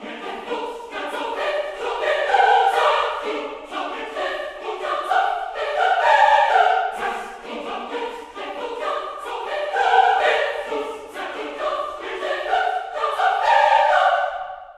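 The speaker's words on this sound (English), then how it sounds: "we're starting off with an epic sounding choir, Performance Samples, Oceania 2, right out of the box." A big, epic-sounding sampled choir from the Performance Samples Oceania 2 library sings sustained swelling phrases, loud and full, rising and falling in waves with no speech over it.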